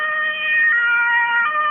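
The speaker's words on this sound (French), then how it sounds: "vous pouvez voir une ambulance qui va très très vite vers la ligne de front" Ambulance siren on a vehicle speeding toward the front line in Ukraine, a loud, close wailing tone that rises and falls in quick cycles, heard alone without speech.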